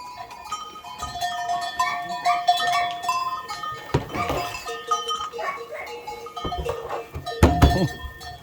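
Goats on a farm in the rain, scattered bleats and calls with a clanking bell and a few thunks of moving animals and equipment, fairly close, with occasional movement around them.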